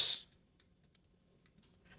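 A compact keyboard paired with an iPad mini is being typed on, producing a short burst of light, close key clicks with brief gaps between them after a soft noise at the start.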